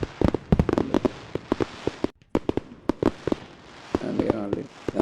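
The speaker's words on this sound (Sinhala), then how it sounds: "මල්ලෙඩි ගහනවා." Fireworks set off near an apartment, a rapid series of sharp bangs and crackles with a short pause, mixed with voices talking over them.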